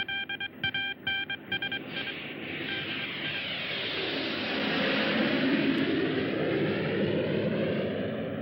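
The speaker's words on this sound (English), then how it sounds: "What are Russian jets doing here?" Jet planes fly overhead in a film scene, preceded by a few short electronic beeps, then a roaring engine rush swells and lingers loudly as the aircraft pass.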